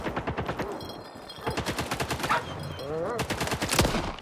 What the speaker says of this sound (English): Oh, they're just shooting at dogs.